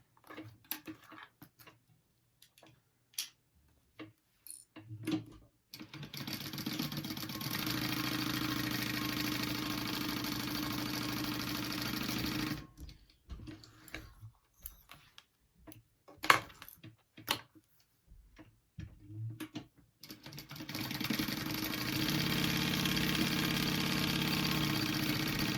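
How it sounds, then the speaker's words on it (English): Sewing machine stitching along the top edge of a clutch wallet, running in two long steady mechanical bursts separated by short pauses and handling clicks, close and fairly loud. "we are just sewing along the top of each side"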